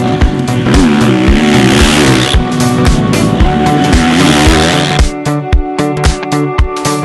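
A 2014 KTM 350 SXF dirt bike engine is ridden off-road, loud and near, with a continuous buzzing roar that rises and falls. The roar gives way to sharper, choppier revs near the end.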